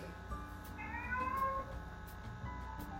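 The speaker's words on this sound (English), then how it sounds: "It's a lot of meowing." A house cat meows repeatedly in rising, drawn-out cries while clawing at a door, heard over a busy background with some scratching sounds.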